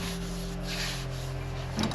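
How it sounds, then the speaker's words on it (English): Steady back-and-forth rasping of a radius sanding block rubbed on a wooden bass guitar fretboard, close and continuous, over a faint low hum. "The curve of the sanding block will just sand down the outside edges of your"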